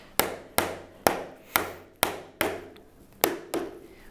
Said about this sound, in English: And this is what happens when you start hammering them in a bit before you should.